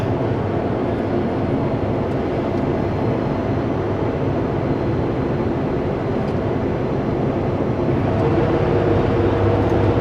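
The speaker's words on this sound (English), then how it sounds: "Engine brakes on full," Loaded Super B semi truck descending the Paulson mountain pass with engine brake on full and engine fan running, giving a steady, loud, low rumbling drone that holds constant throughout.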